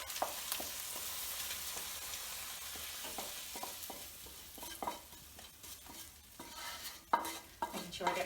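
Pie filling being spooned and scraped from a pan into a pie dish, with repeated soft clinks and scrapes of a spoon against the pan over a faint low sizzle and no talk.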